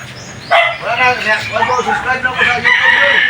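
A rooster crows loudly and close by, with a dog barking and voices talking in the background.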